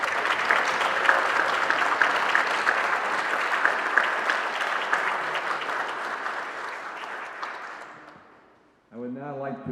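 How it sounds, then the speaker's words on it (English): An audience at the Jimmie Dyess Symposium gives steady, dense applause to the North Augusta Junior ROTC. The clapping gradually fades to near silence, and then a voice begins speaking. "And a round of applause to the North Augusta Junior ROTC."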